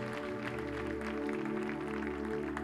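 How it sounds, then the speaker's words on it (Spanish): Steady crowd clapping at a church worship service fills the space, with sustained musical tones humming underneath and no pauses. "Give an applause to our Lord."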